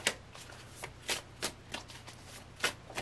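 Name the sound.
tarot cards being shuffled and drawn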